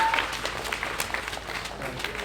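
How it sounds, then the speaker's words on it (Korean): Middle school students at a school assembly in Yeongjong clapping, a short burst of scattered, moderately close applause from a room full of people. "박수 한번 뜨겁게 한번 부탁드립니다"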